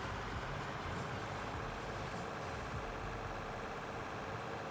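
Steady, close engine drone from a running tractor, a constant low rumble that neither rises nor falls and has no voices over it.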